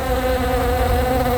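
A housefly buzzes steadily and close, a continuous droning hum with no breaks, heard alone in an indoor scene.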